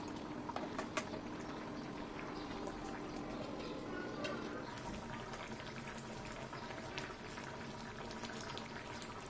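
Fish and green banana curry simmering in plenty of broth, a quiet, continuous bubbling boil with soft pops that stays even throughout and has no voices over it.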